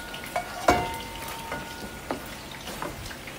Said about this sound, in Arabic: ونبدأ الحين نقلب اللحم مع البصل